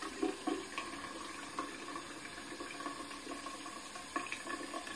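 Tap water runs into a sink as a razor is rinsed under it during a face shave, a close steady hiss and splash with small bursts as the blade passes through the stream.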